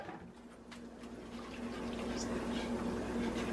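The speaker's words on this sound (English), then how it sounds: "I'm gonna add some heavy whipping cream" Heavy whipping cream pours into a pan as a quiet, steady liquid stream, close and soft, gradually swelling a little over a few seconds.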